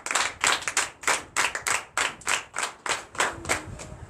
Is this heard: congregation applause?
yes